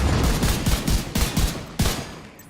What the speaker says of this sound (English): and we're going to shoot away